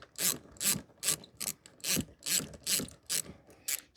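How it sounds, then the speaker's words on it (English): A socket ratchet turns a 7mm clip on a Vauxhall Corsa D headlight pipe, giving about ten rhythmic rasping clicks close up, steady and fairly quiet, with no talking. "we need a socket, specifically a 7mm. So let's have a go."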